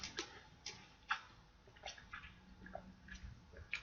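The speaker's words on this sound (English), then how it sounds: "Let me just take a little swig of water." Small, faint sips and swallows of water, a few soft clicks and wet squishes scattered quietly over a few seconds, close to the mouth.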